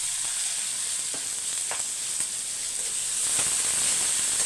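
Two large onions fry in hot oil with fennel seed, fenugreek, cumin, a green chili and curry leaves, a steady bright sizzle with occasional faint stirring taps, no voices.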